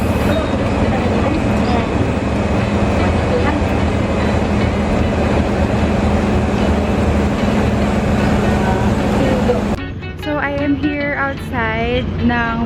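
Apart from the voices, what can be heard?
ferries departing from port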